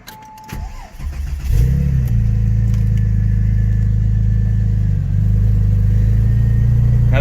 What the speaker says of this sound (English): Now that's a flat 6 motor with a deep grumble, sort of a raspy tone.